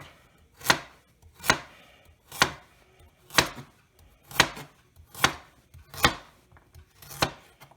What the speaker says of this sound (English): I'm just chopping away because it's me.